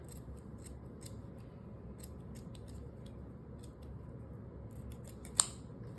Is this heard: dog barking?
no